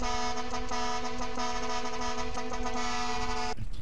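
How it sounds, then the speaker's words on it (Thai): A car horn in GTA San Andreas holds one long, loud, steady multi-tone blast with slight pulses, cutting off abruptly near the end, with no one talking. "เดี๋ยวผมจะบีบแตรให้ทุกคนได้ฟังกันเพราะว่าแตรนี่ก็เป็นแตร3ชาติด้วย"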